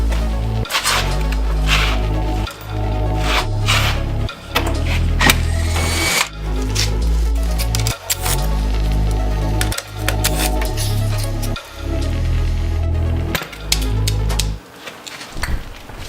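Bolts being removed from a silver door panel on a Nissan 350Z, steady mechanical whirring and clattering with rhythmic pulses repeating throughout, loud and close, with no talking.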